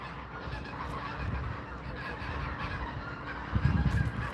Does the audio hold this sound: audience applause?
no